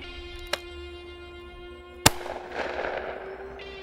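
Gunfire from a gun shot out of a Mini's sunroof: two sharp, loud cracks about a second and a half apart, the second followed by a rumbling tail, over a steady hum.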